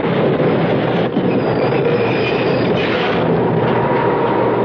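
A subway train runs on its rails in a loud, steady roar, with faint wheel squeal through the noise.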